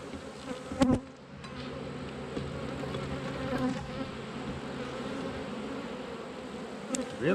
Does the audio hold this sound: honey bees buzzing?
yes